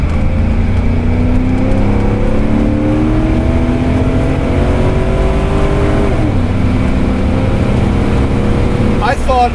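A supercharged Porsche 928S, 370 wheel horsepower, laps a road course, its engine droning loud and close with rising, falling pitch through gear changes, a sharp shift near the end, constant and unbroken throughout.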